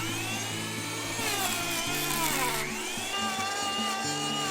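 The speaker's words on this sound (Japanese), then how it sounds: "発力で発ってもやはり電ガナで仕上げるしかありません。" An electric hand planer runs steadily over a slab of zelkova wood, a loud, continuous whining motor drone with shifting pitch as the blade bites and eases across the grain, close and alone without speech.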